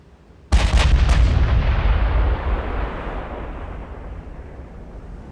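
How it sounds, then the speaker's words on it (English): Warship main guns fire at destroyers in Ultimate Admiral: Dreadnoughts: one sudden, loud, booming salvo with a couple of quick follow-up cracks, then a long rumbling decay fading over several seconds. "Are we firing the main guns at destroyers?"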